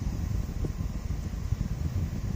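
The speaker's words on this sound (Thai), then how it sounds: "เสียงคอมแอร์ด้านล่าง พร้อมแผงคอยล้อเริ่มทำงานเบาๆนะครับ" A Toyota Granvia's electric air conditioning compressor and condenser fan start up quietly, giving a steady low rumbling hum with a soft airy whoosh and no voices.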